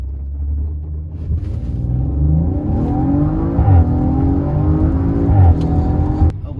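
An Audi RS5's engine rumbles and revs as the throttle is pressed after a downshift, rising in a loud, close drone with a couple of pitch swells before cutting off abruptly.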